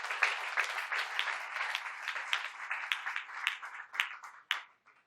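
A church congregation applauding to acclaim the Lord during a French-language sermon, steady sustained clapping from many hands, moderately distant and filling the room.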